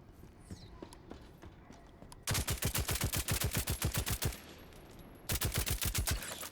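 A scatter shot weapon in VoidTrain fires in two rapid, evenly spaced volleys of loud punchy blasts, the first long run followed by a brief pause and a shorter second burst, with no talking.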